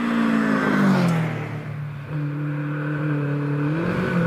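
Fisher Fury hillclimb race car with a 2-litre Zetec engine revving hard at the start line of a British Championship hillclimb at Prescott, loud rising and falling engine note with brief dips between blips.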